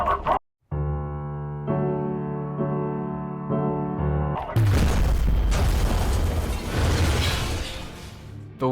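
A grenade detonates under a vehicle seat in Half-Life: Alyx, a sudden loud boom with rumbling debris that follows a sustained humming tone and trails off into noisy decay.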